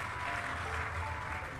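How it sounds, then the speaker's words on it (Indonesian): Steady, dense applause from a church congregation, clapping continuously at moderate level with no pauses, heard from within the hall. "Tepuk tangan bagi Tuhan Yesus."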